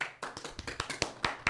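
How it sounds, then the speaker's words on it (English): A few people in a small room clap for a guest on a hip-hop interview podcast, sparse distinct hand claps in a loose uneven rhythm, close and fairly crisp. "Let's give him a round of applause."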